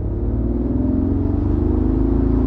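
A Mercedes G580 EQ electric SUV accelerates hard with slight wheelspin, giving a steady rising electric whir over a low rumble, close and continuous.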